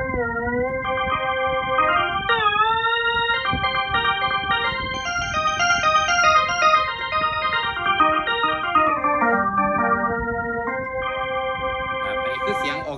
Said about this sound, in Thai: อันนี้คือเสียงออร์แกนนะครับ